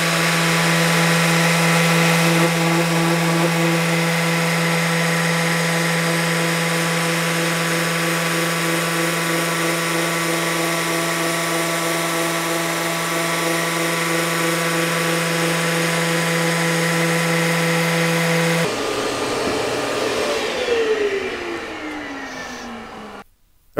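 A Festool sander works on wood with a dust extraction vacuum and Oneida Dust Deputy cyclone, a loud steady whine and hum for most of the time, then the motor winds down with a falling tone.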